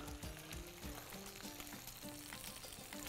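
Food sizzles steadily in butter and oil in a pan while being stirred, with a dense continuous crackle and soft scraping close by and no talking.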